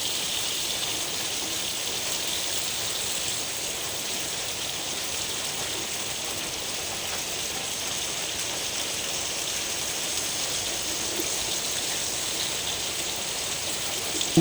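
Rain falls steadily in a village, a continuous broadband hiss of drops pattering on surfaces, even and unbroken throughout.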